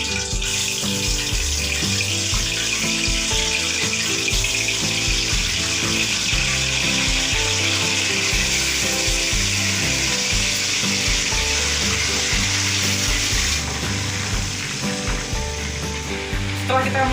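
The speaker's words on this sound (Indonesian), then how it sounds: "percikan ini dihasilkan oleh reaksi air dan minyak" Food fries in hot oil in a wok, a loud, dense, continuous sizzle with crackling spatter from water meeting the oil, close up with no voices.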